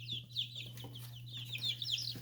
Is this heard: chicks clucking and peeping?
yes